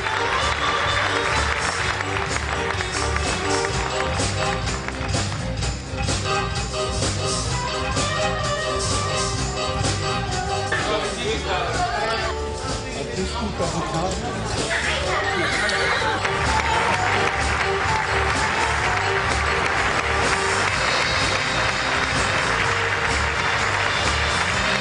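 Circus audience applauding a high school dressage show, sustained clapping and cheering from a large crowd with background chatter, briefly dipping midway before swelling again, loud throughout.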